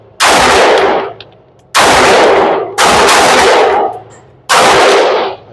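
Four loud pistol shots from a Canik TTI Combat, spaced roughly a second apart, each a sharp close crack with a decaying echo and no talking.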